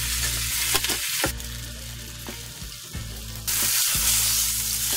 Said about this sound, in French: Pendant que la viande saisit